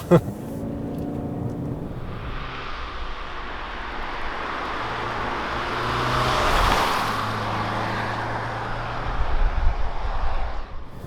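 A 2019 Kia Cadenza hybrid sedan driving on a slippery road, with a steady cabin hum of tire and road noise that swells and fades slightly, heard under someone talking throughout.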